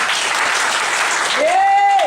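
A church congregation clapping to welcome guests, a sustained round of applause from many hands in a room, with a voice rising over the clapping near the end.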